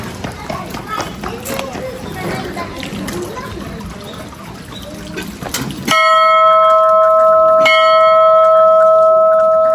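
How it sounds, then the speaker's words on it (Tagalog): A bell rung once outdoors at a countryside shrine, near Yoro Falls in Japan during autumn, giving a loud struck tone that rings on with a long steady hum, following a stretch of busy outdoor noise. "Parang dalawang bell lang po, tunog ng bell. Kakalimbangin natin."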